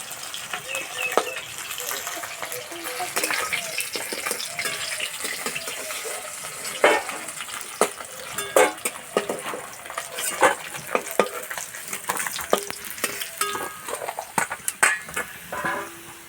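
Fish pieces frying in oil in a pan while being turned and stirred, with steady sizzling and irregular scraping clatters of a utensil against the pan, close up, and a voice speaking at times.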